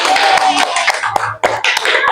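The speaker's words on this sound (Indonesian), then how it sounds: "Beri tepuk tangan dulu untuk temannya" Classroom applause for a student group, many hands clapping in quick, uneven bursts, close and fairly loud with faint voices underneath.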